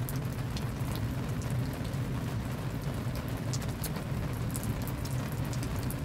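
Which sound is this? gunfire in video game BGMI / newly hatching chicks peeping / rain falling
rain falling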